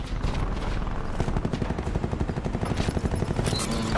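A helicopter passes overhead in a Domination match of the video game Black Ops 4, its rotor chopping in a fast, steady pulse, loud and close, with gunfire crackling around it.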